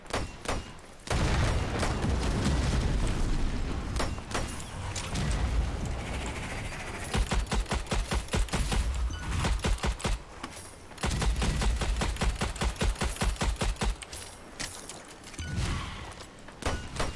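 Heavy gunfire in the co-op shooter Strange Brigade, long loud volleys of rapid shots with booming thuds, pausing briefly between bursts and carrying on throughout.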